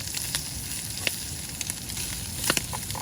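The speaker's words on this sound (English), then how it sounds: "we're going to cook some prawn toast that I've already prepared in some oil" Steady sizzling of prawn toast frying in hot oil at a beach campsite, with occasional small pops and crackles.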